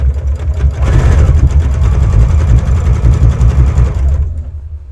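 A sewing machine stitches a seam on a patriotic pride quilt, running in a steady, loud mechanical drone with a rapid needle rhythm for about four seconds before slowing and stopping.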